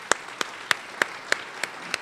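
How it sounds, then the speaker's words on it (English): Sparse clapping at a philanthropy pledge event: about seven distinct sharp claps spaced evenly, fairly faint over a quiet room background. "I think we all owe him another round of applause for his leadership."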